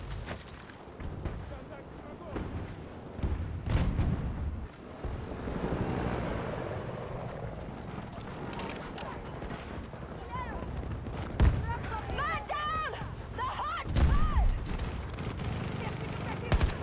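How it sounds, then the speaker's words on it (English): Battlefield 2042 combat fills the scene with dense gunfire bursts and explosions, plus an aircraft engine droning through, while players talk over the noise. "There's a lot of explosions."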